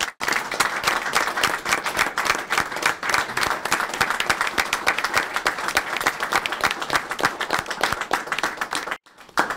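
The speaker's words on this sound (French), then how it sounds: "je pense qu'on pourrait les applaudir chaleureusement" A council meeting audience breaks into sustained, dense applause from many hands, loud and steady for about nine seconds before cutting off abruptly.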